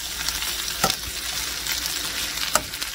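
Fish or potatoes fry in a pan with a dense, close, continuous sizzle, broken by a couple of sharp little clicks or pops.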